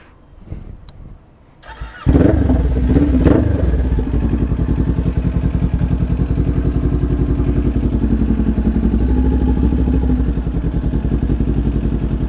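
Motorcycle engine cranks and catches after a few knocks, then settles into a loud, steady, close idle rumble that runs on evenly.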